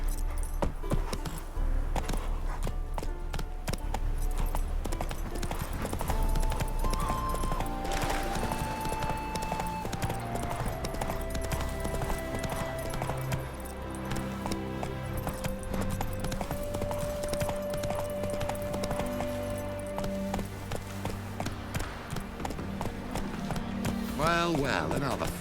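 Roach, Geralt's horse in The Witcher 3, clip-clopping at a steady pace under a continuous orchestral score, with occasional in-game voices over the top.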